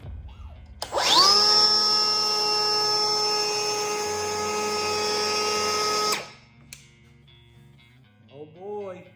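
Milwaukee M18 Fuel 3-1/4" cordless wood planer spins up with a rising whine and cuts a bevel along a board in one loud sustained pass for about five seconds, then stops abruptly, followed by a short voice.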